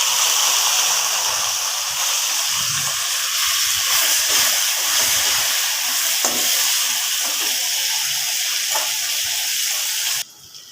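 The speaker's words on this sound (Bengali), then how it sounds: "আলুগুলো কিছু সময় ভেজে নিয়েছি" Potato pieces coated in turmeric and salt fry in hot oil, a constant, dense sizzling hiss that holds steady before cutting off abruptly near the end.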